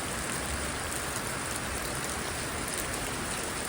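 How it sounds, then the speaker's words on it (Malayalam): Heavy rain pours steadily in a flooded area where water covers the road, a dense, continuous roar of drops drumming on surfaces close by, with no voices. "മഴ ശക്തമായി തകർത്ത് പെയ്യുകയാണ്."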